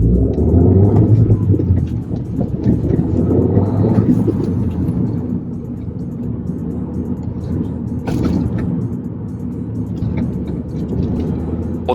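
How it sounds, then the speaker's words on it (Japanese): MINI Cooper S with a modified stock muffler and John Cooper Works cutter, driving in sport mode, a low steady exhaust rumble and road drone heard from inside the car, continuous and moderately loud, without speech. "音的にはアクセルをオフにした時にバラバラ音してます。"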